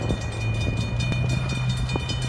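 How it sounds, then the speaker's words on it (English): A train passes close by with a steady rumble and rattling wheels, a sustained drone running alongside the rolling clatter. "Oh, a train."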